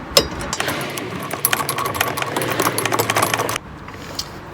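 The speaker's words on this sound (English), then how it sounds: "And there's my ratchet." A ratchet turns the bolts on a BMW X3 F25 Westfalia tow bar, giving a fast, steady run of close metallic clicks for about three seconds before it stops.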